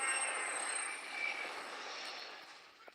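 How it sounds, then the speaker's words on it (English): Stealth chopper from Call of Duty Warzone Mobile flying close by, a steady broadband rotor and engine roar holding at even loudness for a few seconds with a faint bright whine on top. "Stealth chopper in close."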